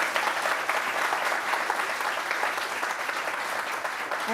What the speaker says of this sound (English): let's give a round of applause to the Prime Minister